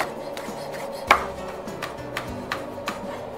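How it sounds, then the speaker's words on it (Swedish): A knife chops a chili pepper on a cutting board during cooking, with one loud sharp chop followed by several lighter, evenly spaced cuts close to the microphone. "Hacka upp den här då."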